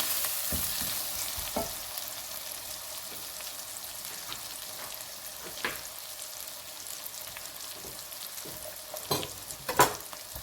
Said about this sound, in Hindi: इसको भी इसके साथ ही प्याज के साथ मसाले के साथ हमने भूनना है